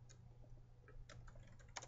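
Typing on a computer keyboard at a desk, a short run of quick, light key clicks in an irregular rhythm, close and fairly quiet, with no talking.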